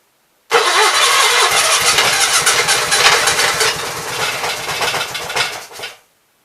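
An Onan B43 two-cylinder engine starts abruptly and runs loud and close with a rough, steady roar for about five seconds, then dies away.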